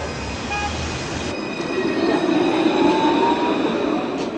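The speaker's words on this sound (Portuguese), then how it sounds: "embora o sinal feche na hora que o trem atravessa" A light rail vehicle rolls along city tracks in Curitiba, a steady loud rumble of wheels with faint high squeal tones running throughout, heard close and continuous without speech.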